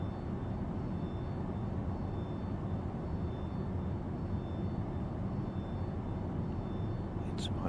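Aircraft engine running steadily in a flight simulator after the throttle is cranked with the mixture set rich, a constant low drone at even loudness throughout, ending with a couple of brief clicks.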